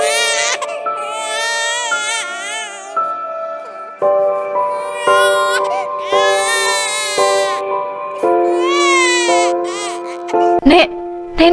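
Baby crying in a horror animation: a sustained, wavering infant wail with rising and falling pitch, loud and close, running through the whole stretch with a tonal eerie musical backing.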